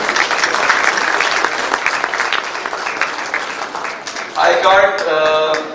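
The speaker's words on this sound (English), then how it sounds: "Round of applause for him." A crowd at an architects' dinner night claps steadily in loud, dense applause, with a voice or cheer rising over it near the end.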